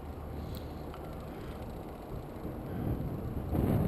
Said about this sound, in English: you'll hear the wind start to pick up because it was a pretty booming windy day